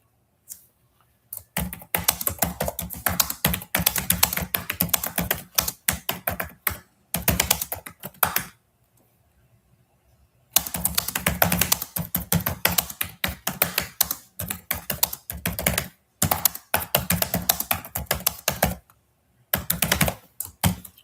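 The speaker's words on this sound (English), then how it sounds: "Well, just finish up the typing here a little bit." Rapid clattering keystrokes on a computer keyboard in long bursts, broken by short pauses, close up and steady.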